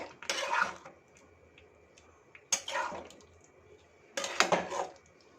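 Dum aloo being stirred in a pan after garam masala goes in, three separate bursts of spoon scraping and clattering against the pan with quiet pauses between, near and with no talk.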